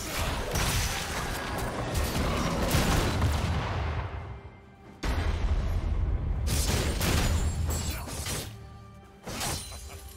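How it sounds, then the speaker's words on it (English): A turret being destroyed in League of Legends: loud, crashing explosions with shattering debris, a heavy roar that fades, then another sharp blast and more booming impacts. "Red team's turret has been destroyed."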